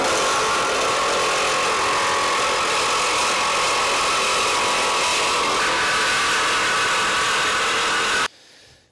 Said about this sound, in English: I got my Sawzall with a nice metal blade, and let's see if this does any better.